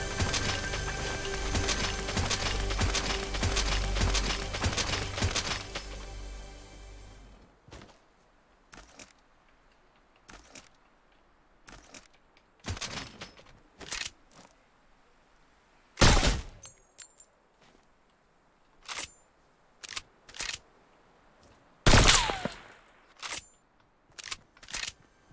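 Rapid gunfire in a video game, loud and continuous for several seconds, then scattered sharp shots and impacts at intervals with quiet gaps between them.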